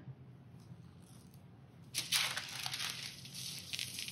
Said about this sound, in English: And then I'm going to place it on my newsprint.